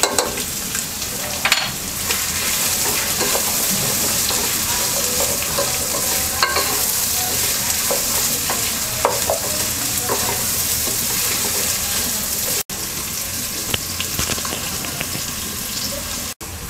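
Vegetables with turmeric are stir-fried in a pan, making a loud, continuous close sizzle with spatula scrapes and stirring clatter running throughout, broken by a couple of brief cuts.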